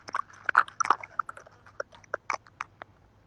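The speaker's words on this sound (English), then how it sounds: "This goddamn dog." A dog's sharp clicks, snaps and mouth noises come in a quick irregular burst over a quiet room, close to the microphone and fairly faint, with no talking.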